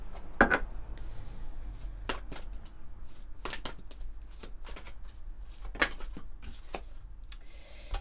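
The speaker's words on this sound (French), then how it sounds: "on va aller prendre maintenant quelques cartes du tarot des flammes jumelles" Tarot cards are handled and shuffled close by in sharp, irregular riffles and snaps, loud clustered flurries between quieter pauses, with no one talking.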